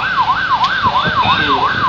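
An ambulance siren wails during an election security drill in Pekalongan, Indonesia, sweeping up and down in a fast, repeating cycle, loud and close, with vehicle noise beneath it.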